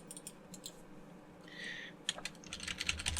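Fingers tap briefly on a computer keyboard during a Linux command-line session, producing a few quiet, close clicks in short bursts with a small pause between them, alone and faint.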